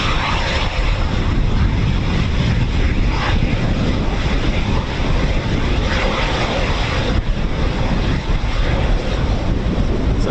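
A Eurofighter Typhoon jet with a stuck refuelling probe lands using a brake parachute, giving a loud, sustained broadband engine roar that stays steady throughout, with no voices.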